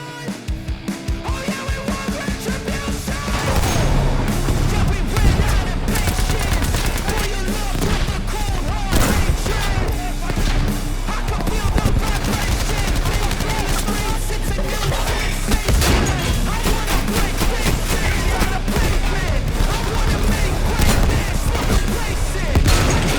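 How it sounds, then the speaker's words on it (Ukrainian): Battle in the video game Battlefield 5, fought on foot, in armor and in the air: dense bursts of gunfire and booming explosions crack and rumble almost without pause, loud and close throughout. "сама зброя, вибухи і навіть руйнування в Battlefield 5 на дуже достойному рівні"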